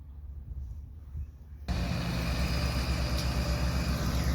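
Two International Harvester tractors, a 1456 with front wheel assist pulling a 5-bottom plow and a 720, roll in across a field, their engines a faint low rumble that swells abruptly into a loud, steady drone.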